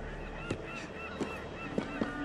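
Geese-like birds honk in short, spaced calls in the game Assassin's Creed Unity, four or so over a steady ambient background, with no talking.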